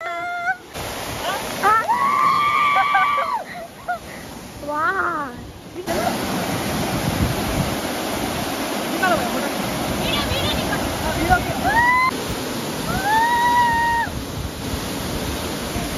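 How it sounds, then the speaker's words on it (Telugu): A waterfall roars with a steady, loud, broadband rush throughout, while people talk close by over the constant water noise. "అక్కడ సైడ్ వాటర్ ఫాల్స్ ఉన్నాయి"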